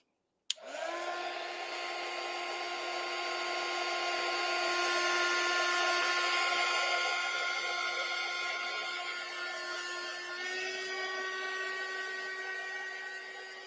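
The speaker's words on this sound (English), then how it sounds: "we're going to take the heat gun" A heat gun blows hot air onto an MDF board, a steady close whirring roar that starts abruptly and holds level throughout, with a slight pitch shift near the end.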